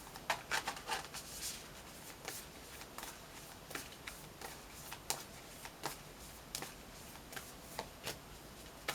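Magickal spell cards shuffled close up and faint, a run of crisp riffling bursts followed by scattered soft snaps and taps as the deck is worked by hand.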